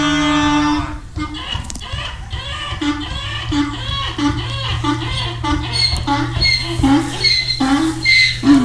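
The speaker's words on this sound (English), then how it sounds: "That's a cow." A cow named Lucy moos in a long drawn-out low call near the microphone, a loud harmonic bellow that repeats over several seconds alongside rustling.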